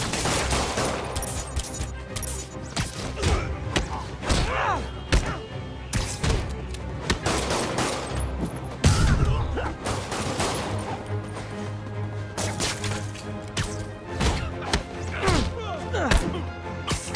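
Criminals fire guns at Spider-Man during a safe robbery in Marvel's Spider-Man, with dense, rapid bursts of gunfire and sharp impacts and crashes over a long stretch.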